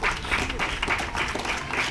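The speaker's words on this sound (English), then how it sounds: "ask those of us here to give them a round of applause as I call their names" Applause from an audience at a military passing out parade, a steady, dense wash of many hands clapping close and loud throughout, with a faint murmur of voices underneath.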